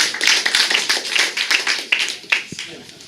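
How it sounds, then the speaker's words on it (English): Audience applause at a District 1 city council candidate forum, a dense, steady patter of many hands clapping throughout, moderately loud with a few sharper claps near the end. "I think we can get a round of applause for that one."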